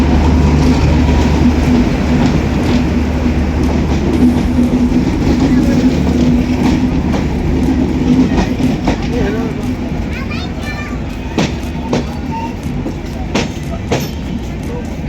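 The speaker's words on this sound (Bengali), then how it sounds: "ট্রেন চলে এসেছে।" A train arrives and passes near a station on the way to Dhaka, a loud continuous rumble and rattle of rail cars with sharp clanks toward the end, heard close by.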